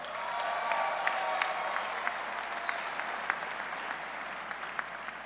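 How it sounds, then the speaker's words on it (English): A crowd applauds at a university football coach's introductory press conference, dense steady clapping with a few sharper claps standing out, moderately distant and indoors. "Give yourselves a round of applause"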